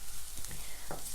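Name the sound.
sautéing onion in a pan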